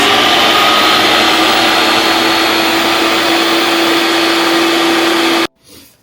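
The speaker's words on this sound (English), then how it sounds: "So we're going to click the buttons so that we can make a soft serve ice cream. We're going to let it mix." Home soft serve ice cream maker whirring loudly and steadily as it mixes a protein ice cream base, with a constant motor drone and a faint tone that cuts off abruptly near the end, leaving a brief quiet rattle.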